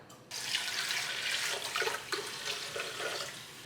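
Water poured into a blender jar holding rice and pine nuts, a steady close splashing rush that begins abruptly and runs for several seconds without any talking.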